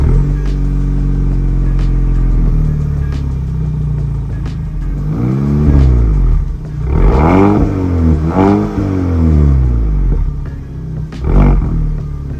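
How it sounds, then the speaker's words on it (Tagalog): Active quad-tailpipe exhaust of a 2023 GAC Empow sports sedan, valves open in sport mode, roaring through several strong revs: a steady idle rumble rises into three or four swelling throttle blips, near and loud with no talk. "this is an actual quad exhaust tailpipe with active exhaust"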